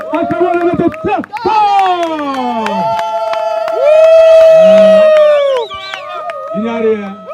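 Wedding guests at a civil ceremony cheer for the bride in loud, sustained shouts with rising and falling whoops and voices overlapping throughout.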